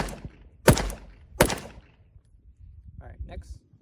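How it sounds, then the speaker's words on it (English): A Sig P365 XL pistol with its stock slide fires 115 grain ammunition. Two sharp, loud reports about three-quarters of a second apart stand out, followed by quieter clatter. "We go 4 shots with 115 grain ammo."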